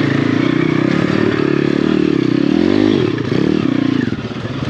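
A 150cc-swapped pit bike engine revs hard on a single-track mountain enduro trail, a loud, steady buzzing drone that dips briefly and picks back up.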